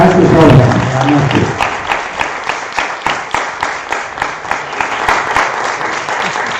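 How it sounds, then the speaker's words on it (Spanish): Loud, sustained audience applause closing a talk by Asturian authors, with a swell of voices at the very start giving way to steady rhythmic clapping from a sizable crowd. "que es dándoos un fuerte aplauso"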